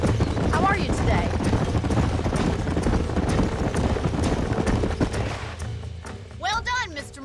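Horses' hooves clip-clop and gallop steadily in the Western video game Red Dead Redemption, a dense rhythmic pounding that eases toward the end while a voice speaks over it.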